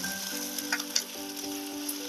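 Onions for a shrimp bharta sizzle in a pan, a quiet, steady hiss with a faint hum behind it.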